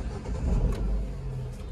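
A car engine turns over and catches during a beginner driving lesson, a short close rumble that rises briefly and then settles.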